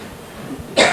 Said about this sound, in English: You must stop coughing.